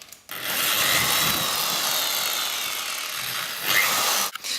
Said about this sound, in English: I'll need to now run the drill back through the other way.